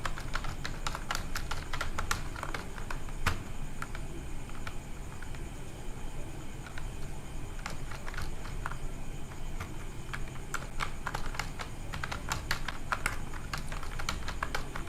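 Names typed on a computer keyboard for a Microsoft Word mail merge: steady, continuous key clicks in quick irregular bursts, close up over a low background hum, with no voices.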